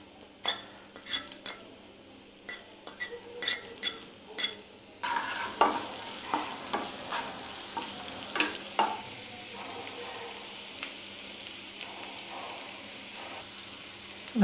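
Chopped garlic and ginger go into a pan for malai kofta, starting with a run of sharp metal clinks and taps, then a broad frying hiss with scattered scraping stirs and clatter, close and without talk.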